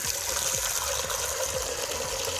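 Running water from an opened tap during hand-washing of laundry, a steady close gush with faint rhythmic sloshing underneath, no talk.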